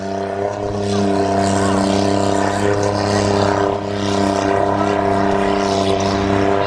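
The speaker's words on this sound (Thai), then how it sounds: "ตอนนี้เรือประมงขนาดเล็กกำลังออก" Loud, steady engine drone with strong low harmonics, small fishing boats departing and running continuously nearby, with water wash and faint voices in the background.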